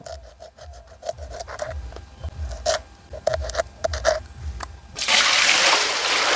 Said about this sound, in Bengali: পাকটা আঁশ পরিষ্কার করা মাছগুলো ধুয়ে নেব মাছগুলোকে ভালো করে পরিষ্কার করে নেব